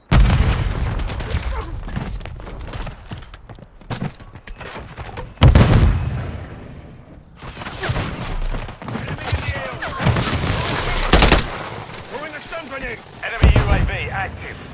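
Missile-strike explosions and gunfire in Call of Duty Modern Warfare 3 team deathmatch on the Shoot House map: several heavy, loud blasts burst out between stretches of rumbling battle noise and shooting, with voices mixed in.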